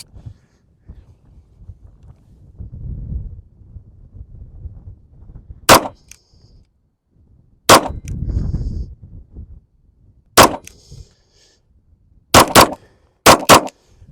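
Handgun fired at a paper target outdoors, seven sharp loud shots in uneven clusters with bursts of wind rumble between them.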